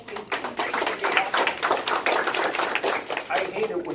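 An audience at a small business seminar on publishing claps in a brief, dense patter of many hands, fairly close, with a voice speaking over the applause.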